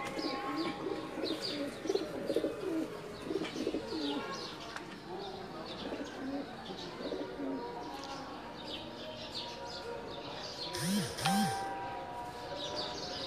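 Pigeons from a pigeon collection in Rawalpindi coo repeatedly nearby, soft throaty calls rising and falling among chirps and background activity.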